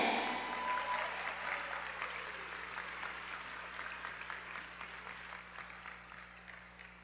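An audience at a high school senior awards ceremony applauds, a broad steady wash of clapping that starts loud and slowly fades over several seconds, with a low hum beneath.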